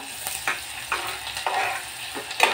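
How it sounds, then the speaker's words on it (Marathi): Onion fries in hot oil inside a pressure cooker for a brinjal and potato curry. A steady close sizzle is broken by regular scraping stir strokes about every half second. "आता त्याच्यामध्ये आपण कांदा टाकणार आहोत. कांदा भाजणार आहोत चांगला."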